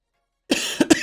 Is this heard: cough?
yes